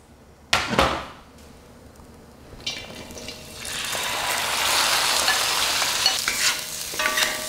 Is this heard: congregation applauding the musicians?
no